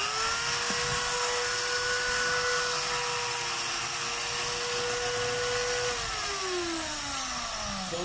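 A DeWalt DW203 hammer drill, wired straight through with its switch bypassed, runs continuously with a loud, steady high whine and motor hum. Near the end its pitch slides downward as it begins to slow.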